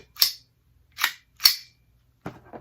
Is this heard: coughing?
no